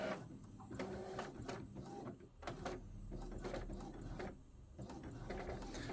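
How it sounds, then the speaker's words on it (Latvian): An Epson L-series inkjet printer, one of the L3150 or L3250 family, prints a nozzle check test page with whirring, clicking print-head passes and feed mechanisms running steadily and close up. "Printēsies testa lapa, lai mēs redzam,"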